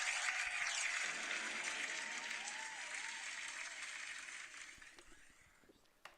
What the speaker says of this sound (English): All right, another clap.